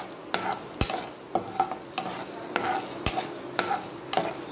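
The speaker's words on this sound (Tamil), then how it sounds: "கடலைப்பருப்பை ஆட் பண்ணிட்டு லைட்டாக வதக்கி விடுங்க." Chana dal frying lightly in oil in a pan, a soft steady sizzle broken by several sharp scraping strokes of a spoon or spatula stirring it, close and fairly quiet, with no talk.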